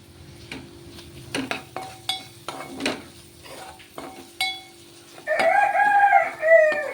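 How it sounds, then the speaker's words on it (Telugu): Domestic chickens kept at a home, heard near a kitchen where mutton curry is cooking: scattered clucks and short calls, then a loud drawn-out rooster crow near the end. "మా ఇంట్లో కోళ్ళు ఉన్నాయండి కోళ్ళ చప్పుడు వినబడుతుంది మీకు"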